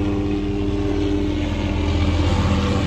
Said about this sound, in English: Helicopter coming in, trying to make all this noise